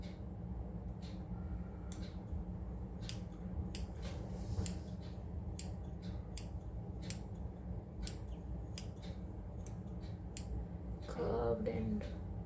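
Surgical scissors snipping suture thread, a series of sharp, short clicks and snips spaced irregularly, close but fairly faint over a steady background hum.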